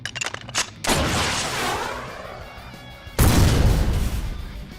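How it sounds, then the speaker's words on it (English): A deep rumbling boom rolls in, followed by a second heavier blast, both broad and distant-sounding, fading slowly into a noisy wash. "You hear an explosion in the distance."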